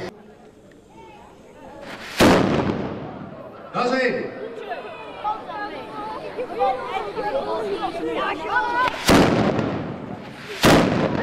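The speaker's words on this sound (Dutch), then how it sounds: "de schutterij te verzoeken om de kanonslagen te laten klinken om de kermis te openen" Ceremonial cannon shots are fired by a schutterij to open the kermis fair in Venray: one loud boom, then two more close together later, with crowd chatter and voices between the blasts.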